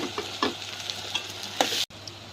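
Spices and tomato pieces fry in a pan with bay leaf, giving a steady close sizzle broken by several scraping stirs, before the sound cuts out briefly near the end.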